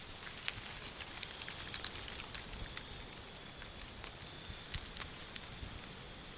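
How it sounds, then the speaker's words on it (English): Firewood crackles steadily in a quiet outdoor setting, with scattered sharp pops and ticks over a soft continuous hiss, faint and close, with no one talking. "Focus on the sound of the firewood crackling."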